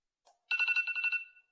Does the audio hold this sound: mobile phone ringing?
yes